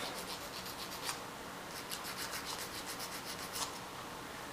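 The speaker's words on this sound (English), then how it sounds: "take a emery board and just kind of lightly smooth those off" An emery board lightly sands excess cured epoxy off a spoonfly fishing lure, giving a soft, steady scratchy rubbing with faint repeated strokes, quiet and close, with no voices.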